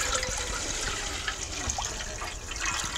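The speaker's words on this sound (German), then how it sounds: "Ich gebe jetzt praktisch den Wasser-Essig-Mischung gleich in den Topf." A water-and-vinegar mixture pours steadily into a cooking pot, a continuous close rushing splash for the whole stretch, while pickling jalapeños in a home kitchen.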